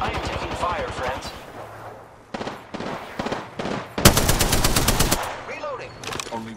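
Gunfire in the Apex Legends battle royale video game comes in rapid automatic bursts, with a short sparse stretch and then a dense, louder volley near the end, mixed with in-game character voices.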